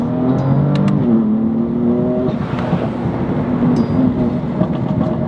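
A BMW F8x with the S55 engine and an ARM intake revs loudly and close, its tone rising in stepped pitch sweeps before settling into a sustained roar.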